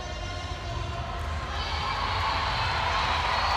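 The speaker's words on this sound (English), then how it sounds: "Listen to the crowd getting behind Katrin Tanya now." Crowd at a CrossFit semifinal event cheering for an athlete as she competes, a steady, broad roar of many voices that swells slightly toward the end, with an announcer's voice talking over it.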